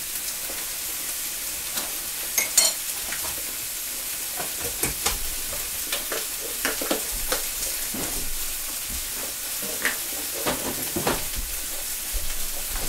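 Sirloin steaks sizzling in a pan with butter and thyme, a loud, continuous close-up frying hiss with frequent sputtering pops and crackles throughout, no talking.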